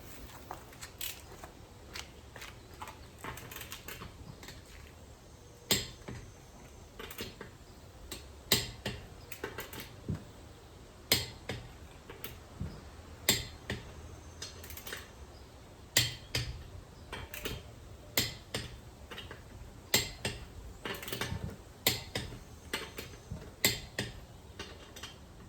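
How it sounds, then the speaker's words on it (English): A torque wrench tightens the lug nuts on a Nissan Rogue, giving sharp metallic clicks and ratchet ticks in irregular bursts over a quiet garage background. "you gotta torque these lug nuts"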